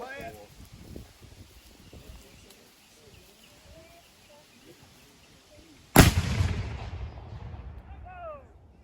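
Cannon fired at a Civil War reenactment: one loud, sudden boom with a long rolling decay follows quieter ambient sound and distant voices, with birdsong audible afterwards.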